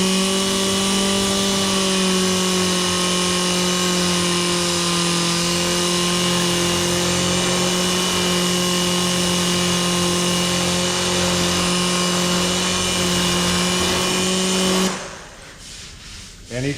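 A DA sander whirs steadily against an auto body panel, a loud, even high-pitched drone that holds for about fifteen seconds before cutting off and spinning down.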